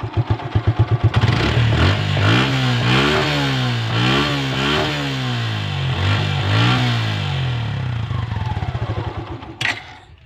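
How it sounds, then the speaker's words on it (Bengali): A Suzuki Gixxer Monotone motorcycle exhaust thumps at idle, then the engine is revved repeatedly in rising and falling surges. The loud, close sound ends with a sharp click. "এখন স্টার্ট হয়ে গেছে, তো এখন এক্সজস্টের সাউন্ড আপনাদের শোনাই দিই।"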